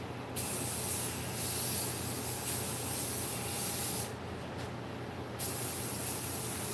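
Rust-Oleum 2X spray paint in Satin Ivory Silk hisses from a can in steady, close bursts with brief pauses between them, and no one speaks.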